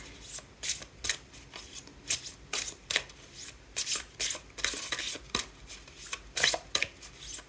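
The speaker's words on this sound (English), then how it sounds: "And then I'll draw 2 cards from this Tree of Life Oracle deck just to clarify the advice" Oracle cards from a Tree of Life deck being shuffled and drawn by hand, a steady run of crisp riffling bursts and soft slides, close and fairly loud, with no talking.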